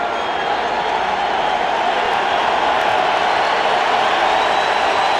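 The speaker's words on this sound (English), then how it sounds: "Right now, the crowd getting loud on 3rd and long." Dense, steady roar of a large football stadium crowd during a 2003 NFL game between the New Orleans Saints and Tampa Bay Buccaneers, swelling loud and continuous on third and long with no break.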